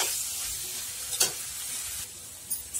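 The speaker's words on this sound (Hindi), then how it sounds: "अब इसको भी हम थोड़ी देर तक भूनेंगे धीमी आंच में।" Paneer pieces fry in a vegetable gravy with peas over low heat: a steady close hiss of sizzling oil, broken by a couple of brief spoon scrapes, and no speech.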